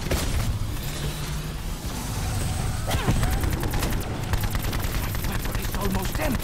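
Rocket launcher fire rattles through a boss fight in the video game Voyage of Despair, bursts of rapid repeated shots with sharp blasts and mechanical clatter, fairly loud, over game sounds.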